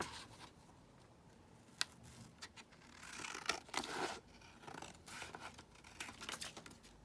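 Scissors snip and trim a paper photo down to size, a quiet, close run of soft cuts and paper rustles that grows a little busier midway, with no talking.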